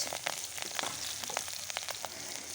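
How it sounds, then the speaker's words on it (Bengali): Nigella seeds and green chillies frying in a wok, a soft, close crackling sizzle with scattered small pops and spits, fairly quiet and alone. "এবার কড়াইতে দিয়ে দেব কালো জিরে ফোড়ন"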